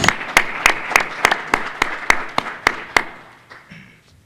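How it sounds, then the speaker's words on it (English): Sparse, sharp claps ring out in a steady rhythm, about ten loud hand claps fading into quieter room noise near the end. "another round of applause"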